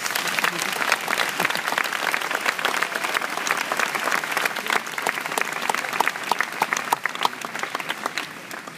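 A graduation audience applauds steadily for several seconds, a dense, sustained clapping from a large crowd indoors with no pause.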